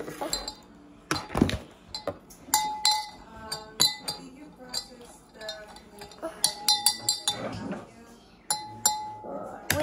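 Clinking of a utensil against a glass while a potion mixture is stirred, the bright taps coming in irregular bursts with short pauses, accompanied by a faint background voice.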